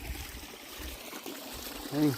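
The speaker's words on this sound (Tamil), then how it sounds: "தண்ணி சரியான ஊற்று" Clear spring water trickles and flows in a forest stream in the Kathiri hills, a soft continuous babble close by with small splashing accents.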